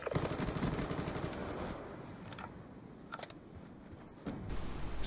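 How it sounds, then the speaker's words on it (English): Peacekeeper SMG gunfire in Black Ops 2 gameplay on a DLC map crackles in rapid, dense bursts. Several distinct sharp shots stand out near the middle and end. "Quite sure you can see some Peacekeeper SMG action, which is also looking pretty nice to use on this map."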